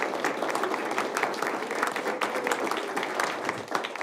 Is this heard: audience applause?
yes